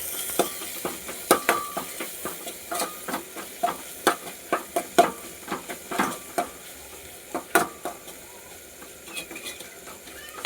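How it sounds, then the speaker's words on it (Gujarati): Fenugreek greens with asafoetida and red chilli are stirred in a pan, a quiet sizzle broken by repeated scraping, clattering strokes of a spoon arriving in an uneven rhythm, close by, with no voices. "અને હવે પછી આને હલાવી નાખશું આપણે।"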